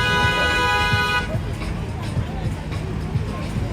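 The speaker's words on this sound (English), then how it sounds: "Nothing like back to honking the horns." A loud car horn blares steadily for about a second on the busy Las Vegas Strip at night, then gives way to traffic rumble and crowd babble.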